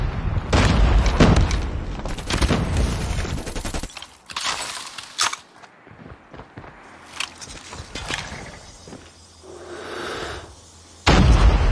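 Grenade explosion amid gunfire in the mobile shooter Call of Duty Mobile, loud bursts of shots and booms, then quieter stretches with footsteps and scattered shots before a final loud burst.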